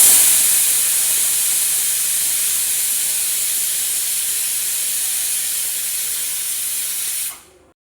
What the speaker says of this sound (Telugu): కుక్కర్ మూత తీసే ముందు ఫస్ట్ విజిల్ తీయాలి, తర్వాతే మూత తీయాలి.